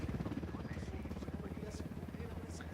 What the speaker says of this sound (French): Un hélico à plein ventre